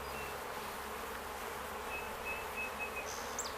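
Honey bees swarm around an open hive during a honey harvest, making a dense, steady buzzing drone that stays close and constant throughout, with no talking.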